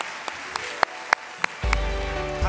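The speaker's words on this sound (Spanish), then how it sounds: "Recibamos con un fuerte aplauso a Yesenia Ochoa." At a televised award ceremony in Panama, a handful of separate, sharp claps ring out in a loose rhythm before music swells in beneath them.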